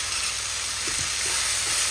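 Steady, dense sizzling of vegetables for veg kothu parotta sautéing without water in a hot pan, a continuous hiss with faint stirring taps.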